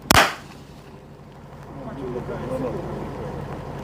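A grenade launcher fires once at a military training range with a single sharp, loud blast at the start. Low rumbling background noise and faint voices follow.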